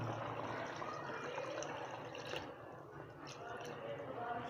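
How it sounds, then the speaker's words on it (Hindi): Water is poured into mutton karahi cooking in a hot pan, giving a steady broad hiss and sizzle that runs the whole time, with a voice faintly present. "अब इधर हमने इसमें थोड़ा सा पानी ऐड करना है ताकि हमारा गोश्त जो है अच्छी तरह गल जाए"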